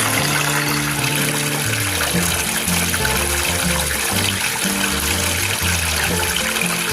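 Water runs steadily through a mainstream gold sluice box loaded with heavy black sand, a continuous loud rushing and trickling wash with a low pump-like drone underneath, no voices.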